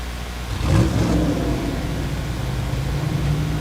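Drag racing cars, including a Corvette, launch at Thunder Valley in Noble, Oklahoma, an engine surging up with a rising whine about half a second in, then a steady, moderately distant roar.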